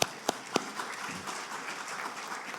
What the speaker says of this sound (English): Give yourselves all a clap if I may.